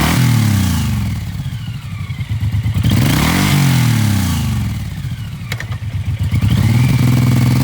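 A used 2017 Suzuki M109R big-bore V-twin cruiser with 9,000 miles, revved up and down twice: a loud, close, throaty engine note rising and falling around a lumpy idle, with no talk.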